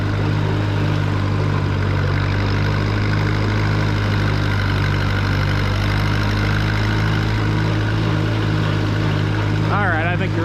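A Super 44 tractor engine runs steadily below full throttle, a loud, continuous mid-pitched drone with a strong low rumble throughout, and a person speaks over it.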